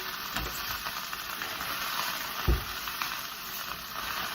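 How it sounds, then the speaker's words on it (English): Grease burns off in a pan while cooking stuffed peppers, a steady close hiss and crackle with a couple of soft knocks, no voices over it. "Okay, so the grease is almost burnt off."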